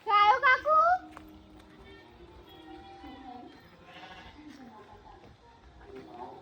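Bleating, high and wavering, is heard at the start, close and loud, then gives way to quieter background voices and ambient noise.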